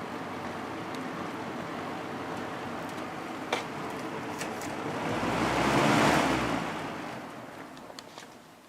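A vintage Galaxy 3713 box fan on its low setting gives a steady, smooth broadband whoosh of moving air, fairly quiet, swelling slightly midway, with no talking.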